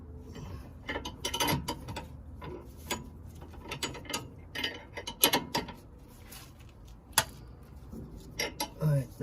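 A wrench or ratchet tightens the stabilizer bar end link on a 1997–2001 Honda CR-V EX, giving irregular close clicks and metallic clanks in short bursts, with occasional voice nearby.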